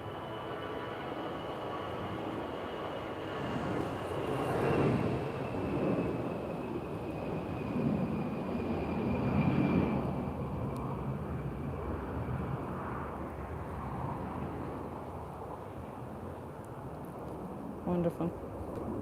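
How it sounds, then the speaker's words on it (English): An EasyJet airliner roars on its takeoff run at Lisbon, a broad rumbling engine noise that swells and fades over about twenty seconds, with a voice talking over it. "I see an acceleration. We're having a takeoff very soon. It's EasyJet"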